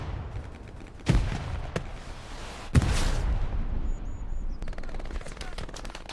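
Grenade blasts and gunfire in the World War II shooter game Hell Let Loose, during a competitive match on the Driel Brick Factory map. Two heavy explosive bursts cut through ongoing rattling gunfire at moderate loudness.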